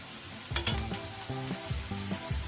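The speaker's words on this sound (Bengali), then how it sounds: "বেরেস্তাটা কিন্তু আমার ভাজা হয়ে গেছে" Sliced onions frying into crisp birista in hot oil for a Bengali katla fish korma, giving a constant close sizzle with a few stirring scrapes and clinks on the pan.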